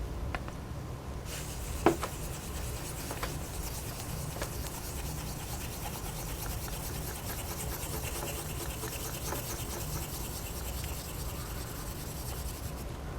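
A straight razor is honed in circles on a Naniwa Super Stone, setting the bevel, producing a continuous soft gritty rubbing scrape at a steady rhythm, close up, with one small tap near the start.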